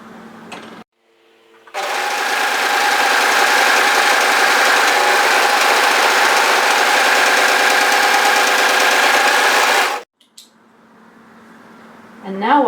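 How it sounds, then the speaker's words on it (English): An overlocker sewing machine runs steadily while overlocking fabric, a loud, close mechanical whir lasting about eight seconds before it stops, with brief voice and handling sounds on either side. "I'm going to continue overlocking down here"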